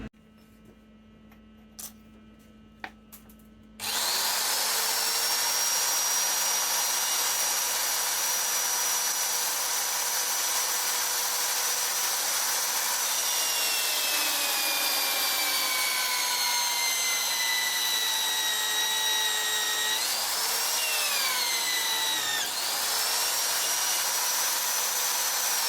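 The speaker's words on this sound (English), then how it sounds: "So with that hole drilled, it's ready to be cut to size and welded onto the end of the shaft." A power drill bores a hole through a steel fixture lug, whining loud and continuous for over twenty seconds after a quiet start, its pitch sliding down and up as the bit bites into the metal.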